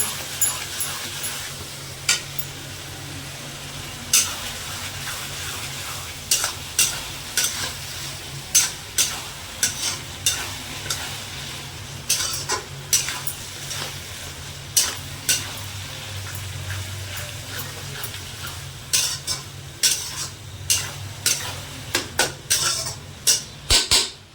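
Spice masala for mutton curry being stir-fried in a pan: a soft continuous sizzle with repeated sharp scrapes and clinks of a spatula against the pan, roughly every second, close and clear.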